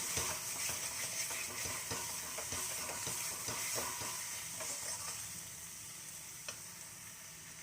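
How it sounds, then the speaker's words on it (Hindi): Garlic and tomatoes are fried in oil for a raw jackfruit masala curry, a steady close sizzle with frequent light clicks and scrapes of stirring that soften toward the end, with no voices. "अब मैं इनको टमाटर के साथ ही अच्छे से भून लूँगी जब तक इसका ऑयल सेपरेट ना हो जाए"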